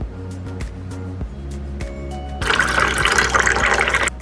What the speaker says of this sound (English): Now we're going to fill it to 1/3 with aloe vera gel. Just go ahead and put in our gel.